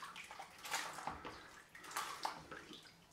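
Water splashing and running in bursts as a straight razor and face are rinsed during a wet shave with a Thiers Issard Le Grelot blade, fairly close and moderately loud, with no talking.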